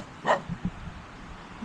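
A single sharp dog bark rings out nearby, followed by a few soft low thuds and grunts, then quiet background, outdoors near water.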